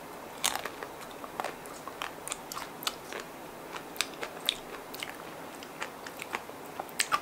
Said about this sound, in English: Magnum Infinity has everything on it. Almond crunch, chocolate covering, chocolate inside, and then it has caramel swirls.